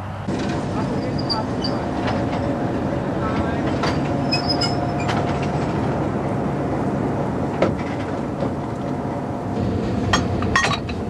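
Velvet Revolution commemorative train rolling out of Bratislava toward Košice, a loud steady rumble of the rail carriage with occasional clinks and rattles inside the wagon.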